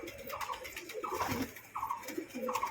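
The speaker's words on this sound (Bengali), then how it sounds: "সব পায়রাগুলো এখানেই রয়েছে আশেপাশে" Soft coos from domestic pet pigeons repeating in a steady rhythm, several low rolling calls close by with no speech.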